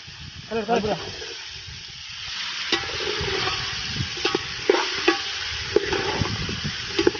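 Chicken pieces are stirred and fried in a pot at a village feast, with a scraping stir and soft sizzle running under loud, overlapping conversation.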